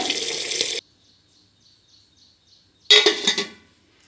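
Running water splashes loudly over raw white rice being washed, a burst at the start and another near the end with a quiet gap between, close and alone.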